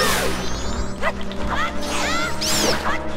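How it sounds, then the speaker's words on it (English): Sword spin attacks against bats in The Legend of Zelda: Majora's Mask, a quick run of swishing slashes, hits and chirpy game effects over a steady background music bed. "we'll just do some manual sword spin attacks"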